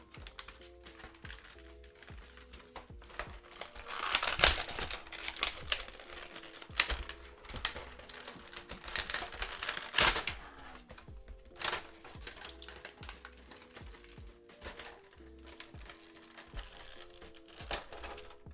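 An Anime Heroes One Piece Shanks figure being pulled from its plastic packaging, with irregular close crinkles, crackles and tapping clicks of plastic coming in uneven bursts, no talking.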